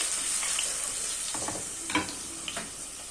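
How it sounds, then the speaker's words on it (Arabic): Garlic and tomato frying in hot oil in a home kitchen, a steady close sizzle with a few soft stirring scrapes and clinks and no talking. "بصوا بقى انا كده حطيت الثوم اهو في الزيت."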